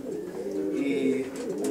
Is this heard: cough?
no